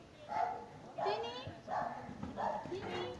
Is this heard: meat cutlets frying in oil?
no